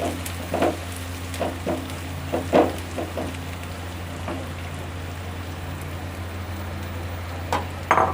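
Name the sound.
onions frying golden in a pan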